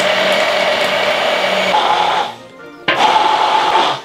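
An electric blender whirs loudly, mixing a sauce with vegetable oil, its steady motor drone cutting out briefly before starting up again at full strength; no talking over it.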